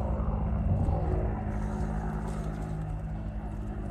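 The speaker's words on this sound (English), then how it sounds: "That's a helicopter." Helicopter passing overhead near an army base by a mountain cemetery, a faint, steady distant rotor and engine rumble sustained throughout.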